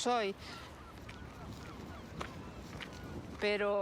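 Harmonic honking calls, like geese, sound at the start and end; in between there is faint outdoor ambience with scattered soft noises.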